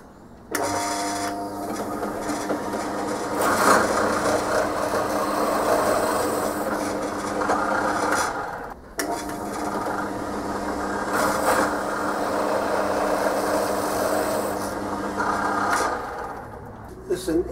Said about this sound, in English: Now to drill it.